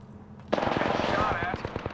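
Rapid automatic gunfire in the Apex Legends video game, a dense burst of loud shots starting abruptly and repeating in a fast rhythm, with a voice speaking briefly underneath.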